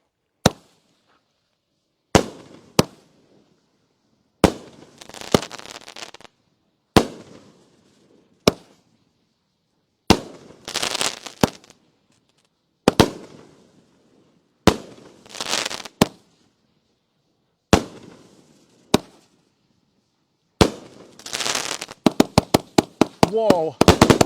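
Pyro Addict firework cake going off: a string of sharp launch thumps followed by crackling bursts, repeating about a dozen times, ending in a rapid volley of pops, with people reacting between shots.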